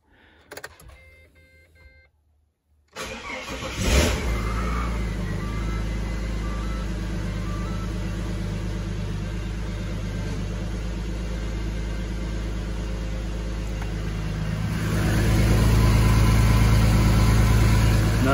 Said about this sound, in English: So we'll start it up for a couple seconds and then shut it down.